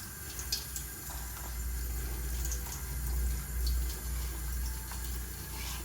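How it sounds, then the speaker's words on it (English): Cold tap water runs lightly from a faucet into a sink, a soft steady stream heard close and alone without talk. "We're gonna use cold water. We're gonna let it run lightly."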